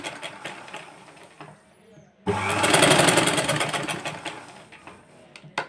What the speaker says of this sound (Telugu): నేను ఇక్కడ గూళ్ళు కొడుతున్నాను.